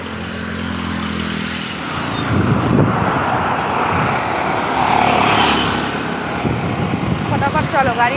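Traffic on a busy road in Delhi near India Gate, with a car approaching and passing close by amid steady roadway rumble, while people talk nearby.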